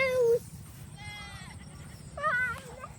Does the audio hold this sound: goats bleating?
yes